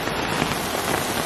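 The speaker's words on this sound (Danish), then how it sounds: "Det begynte å regne litt," Steady rain falls in Oslo, a dense continuous patter on the ground and hard surfaces that stays even and close throughout the short stretch, with no voices.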